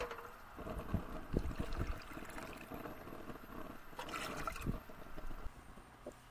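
Water is poured into a pot in a kitchen while preparing Navajo blue corn mush, a faint splashing and trickling with a few knocks and clunks of the pot, quiet and close.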